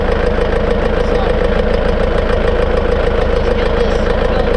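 A diesel tractor engine idles on a working farm, a loud, close, steady chugging drone with an even rapid pulse that holds throughout.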